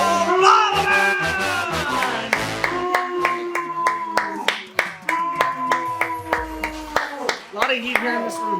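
Audience clapping at a live in-person movie trivia event, rhythmic unison claps in a steady beat under continuous talking from a host over music.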